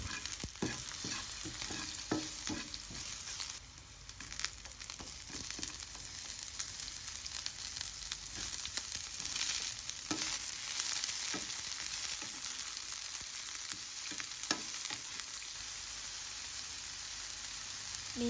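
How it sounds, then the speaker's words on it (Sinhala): Crushed ginger, garlic, pandan and curry leaves fry in hot oil for a cutlet recipe, giving a continuous close sizzle with occasional stirring scrapes and no talking. "තලාගත්තු ඉඟුරු සුදු ලුණු, රම්පේ කරපිංචා ඔක්කොම ටික රන්වන් පාට වෙනකන් අපි බැදගමු."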